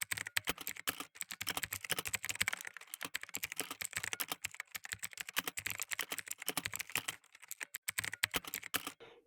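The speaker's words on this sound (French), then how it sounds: "J'écris le code, après je vous explique rapidement." Fast, continuous clatter of keys on a computer keyboard as Python code is typed, close and clear, with dense irregular keystrokes and brief pauses, no voices.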